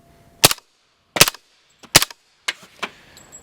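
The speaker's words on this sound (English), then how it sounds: "Let's shoot some steel." Suppressed Extar EP45 .45 ACP pistol fires at steel targets: five sharp, fairly loud shots spaced unevenly, some followed by faint metallic ring from the struck steel.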